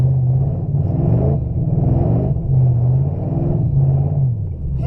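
A beat-up rear-wheel drive Panther-platform car revs and rumbles through snow, its engine rising and falling in repeated surges at close range with no talk over it.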